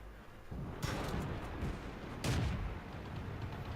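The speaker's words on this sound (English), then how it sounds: "So go ahead and start shooting this PZ-4A." Tank guns fire in the World of Tanks video game during a battle with a Valentine II targeting a Panzer IV, two heavy booming shots over a continuous rumbling engine and battle background.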